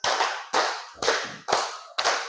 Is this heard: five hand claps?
yes